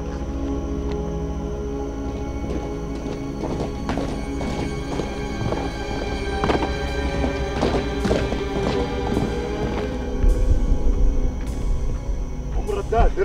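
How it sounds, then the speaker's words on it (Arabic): A horse gallops off at speed with loud, rhythmic clip-clop hoofbeats and a whinny, set in a Bedouin drama, with voices talking over the hooves. "ركبت الحصان وطارت مثل الريح."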